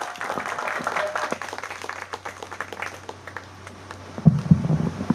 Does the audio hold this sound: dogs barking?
no